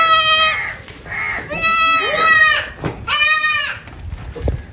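Goats on a farm, a male and a female with young kids nearby, bleat loudly and close, in several drawn-out wavering calls separated by short pauses, with some soft rustling between them.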